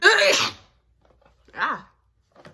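A woman lets out a loud, wet sneeze, then a second strong burst follows after a short pause, with a faint breathy sound trailing at the end.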